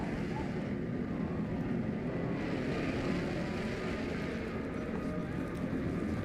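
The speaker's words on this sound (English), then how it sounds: "Oh, we got an incoming turbine." A turbine enemy approaches in the ARC Raiders shooter game, a steady, dense mechanical roar and whir holding at an even level throughout, with no speech over it.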